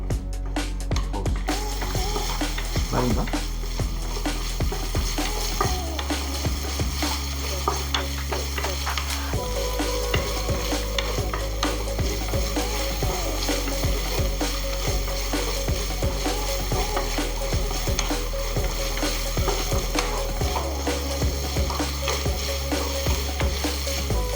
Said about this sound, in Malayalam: ചെറുതായിട്ട് മൂത്ത് വരുന്നത് വരെ നമുക്കിതൊന്ന് വഴറ്റി കൊടുക്കാം